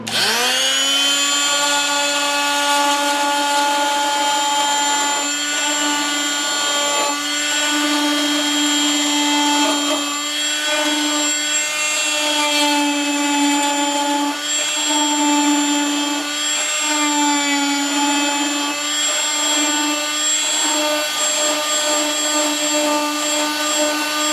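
A steady high-pitched whine from a power stripping tool working paint off the red fenders of a 1968 Triumph TR250 during restoration, running continuously and close, with slight wavering in pitch as the tool moves over the metal.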